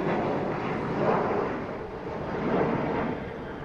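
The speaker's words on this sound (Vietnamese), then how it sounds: "Đây thì cứ 5 tới 7 phút là máy bay sẽ bay một lần." An airplane passes overhead at dusk above a cemetery in Binh Hung Hoa. Its engines make a loud, broad roar that swells and fades twice, with no talking.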